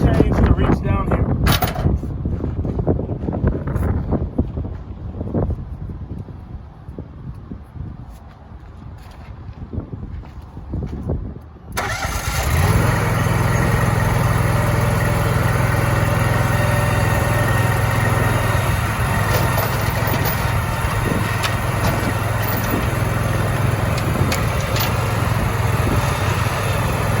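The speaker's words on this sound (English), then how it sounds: "I backed the backed the stump grinder up until I could get the chains on" A stump grinder's engine runs outdoors, at first low under nearby speech and clatter, then rising into a steady, loud, close drone as the machine is backed up.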